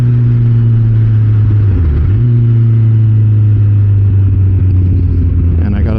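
Kawasaki Ninja ZX-14R motorcycle engine holding a steady, loud low drone that dips briefly, then pulls on with rising revs, close and continuous throughout.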